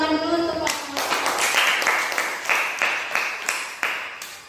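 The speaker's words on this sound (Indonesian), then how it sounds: "Tepuk tangan dulu" A group claps hands in steady applause for a student group in a classroom lesson after a brief moment of voice, the claps rhythmic and fairly close, gradually tapering.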